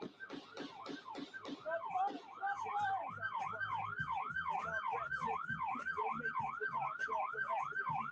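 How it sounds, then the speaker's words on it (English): A police siren wails in a steady, repeating up-and-down sweep after several sharp pulsed blasts at the start, loud and continuous throughout. "I turned it down because of the siren."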